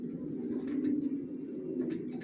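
Racing pigeons coo in a low, continuous murmur, a steady throaty purr that stays close and fairly quiet for the whole stretch, with no voices over it.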